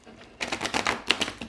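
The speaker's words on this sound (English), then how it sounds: "Wow, these are just terrible shuffles." Tarot cards are shuffled close up in a rapid burst of crisp, clattering riffles, with no talk.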